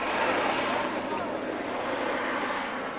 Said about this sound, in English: The Gladiator, last of a long line of radial engine biplane Holland fighters.